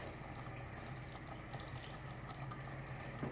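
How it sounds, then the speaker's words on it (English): Water squeezed out of a silicone-cleaned makeup brush by hand, a steady faint wet trickle and drip with soft splashing, close and continuous, no talking. "Squeeze the water out of my brush."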